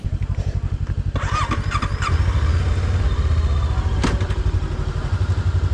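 A motorcycle rides through mountain roads toward Lugu Lake, its engine thumping in a rapid, close pulse that swells as it revs, with wind and road clatter around it and no talking.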